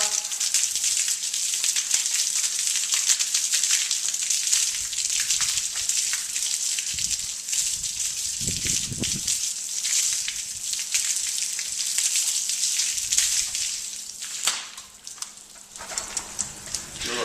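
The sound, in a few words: water rinsing a bike during washing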